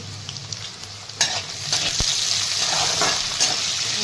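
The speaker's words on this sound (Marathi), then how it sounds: "आता यांना हे छान फ्राय करून घेणार आहे" Ivy gourd (tondli) fries with salt in a pan, a steady crackling sizzle with a few stirring scrapes and one sharp metallic knock partway through, close and without talk.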